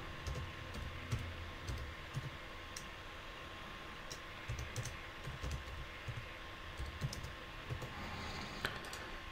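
Fingers type on a computer keyboard to enter data into an Excel spreadsheet, producing a soft, steady stream of close key clicks with occasional firmer taps and no voices.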